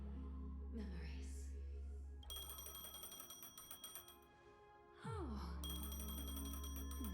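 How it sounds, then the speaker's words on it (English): A phone ringing in Honkai: Star Rail, a bright repeated electronic ring tone that stops, falls silent briefly, then starts again, with a short gasp-like exclamation from a voice. "A phone."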